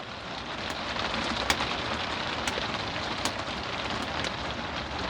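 Steady rain patters on the roof of an RV on a wet day, a dense even hiss with scattered louder drops striking nearby, continuous and alone without any voices.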